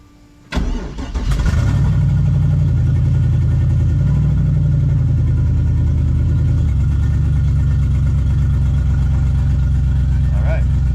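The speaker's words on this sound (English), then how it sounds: "in theory, with no VATS, it should start this car" A 1965 Chevrolet C10 pickup with a swapped LS V8 cranks briefly and fires up loudly, settling into a steady, rumbling idle with a few slight rev swells, close by and continuous for most of the clip.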